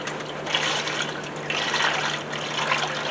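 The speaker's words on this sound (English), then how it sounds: "pour this fluid into my pan right there" Transmission fluid from a 1999 Mercury Grand Marquis pours from the lowered transmission pan into a drain pan in a close, continuous splashing gush.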